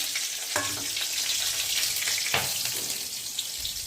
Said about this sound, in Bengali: এবার এই তেলের মধ্যে দিয়ে দেবো চেরা কাঁচা লঙ্কা